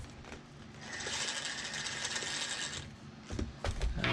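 A cheap toy RC car's small electric motor and plastic gears whir in a steady, fairly close buzzing run under throttle, with brief clicks before and after.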